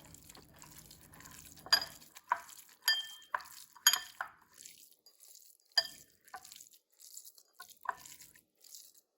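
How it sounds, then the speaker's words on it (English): Warm brown rice mixture tossed by hand for a hearty greens salad gives soft, moist squelches and crunches, with light clinks against the bowl in irregular bursts, close by and fairly quiet. "I'm actually gonna toss it with my hands."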